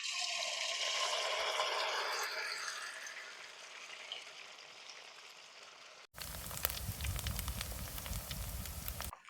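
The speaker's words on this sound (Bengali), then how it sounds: "তেল গরম হয়ে গেছে, এবার তেলে ভেজে নেবো।" Noodle jhuri fries in hot oil with a soft hiss and bubbling that gradually fades, then cuts abruptly to a much louder, close, crackling sizzle for the last few seconds.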